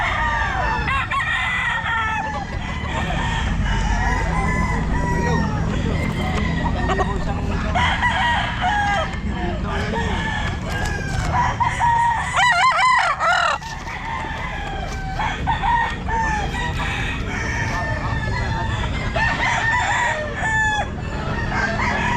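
A stag rooster crows several times at a busy pet market, loud ringing calls rising over clucking fowl and a constant crowd murmur, with people talking nearby.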